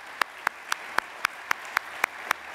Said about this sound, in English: Could we just begin today with a round of applause for Lisa and all the ALEC staff, supporters,